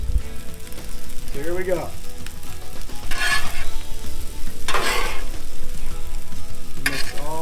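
Butter and jasmine fried rice sizzle steadily and loudly on a Blackstone griddle, with a spatula scraping and stirring at intervals while someone speaks briefly over the frying.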